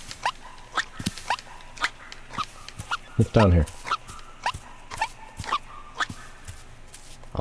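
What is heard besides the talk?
fox barking in video game Seasons After Fall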